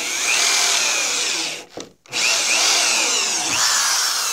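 A power drill drives self-sealing deck screws into wood, whirring loudly and steadily near the mic, with a brief pause in the middle before it runs on again.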